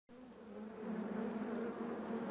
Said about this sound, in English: Oh, why is that bee so large, though?